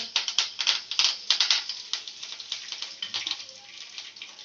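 Mustard seeds, cumin and curry leaves hit hot oil for a tomato chutney, giving a dense, close run of sharp crackles and spluttering pops that stay fairly loud throughout, with no talking.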